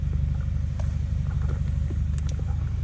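A 2015-or-later Subaru WRX engine with a COBB stage 1 Accessport tune idles steadily and loudly, with a low, even rumble and no voices.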